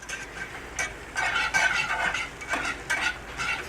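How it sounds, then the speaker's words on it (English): A spoon scrapes and stirs through a flour roux cooking in a hot pan, with repeated scraping strokes over a soft sizzle, close and fairly quiet, with no talking. "I'm going to cook that flour just a little bit."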